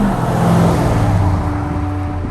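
A custom Land Rover Defender 110 with a 6.2 litre, 565 horsepower LS3 engine runs with a loud, steady, deep rumble, its even drone holding nearly constant throughout with no voices.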